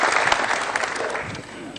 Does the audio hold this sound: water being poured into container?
no